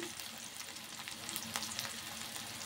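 Onions and green chillies frying in a pan make a steady, close sizzle and crackle that holds without a break, with faint scraping from stirring.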